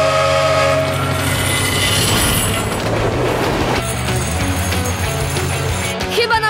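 Cartoon train rumbling past on the tracks in the snow, a loud, continuous rolling clatter with whistle blasts, mixed with music and effects.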